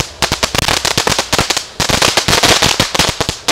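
A homemade fan of fireworks goes off in a rapid, loud volley of sharp cracking bangs, dense and irregular, continuing throughout with barely a pause.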